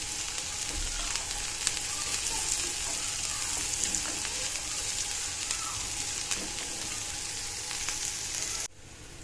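Onions and peppers frying in a pan, a steady close sizzle with light crackles and occasional stirring scrapes, continuing evenly for several seconds before dropping off abruptly at the end.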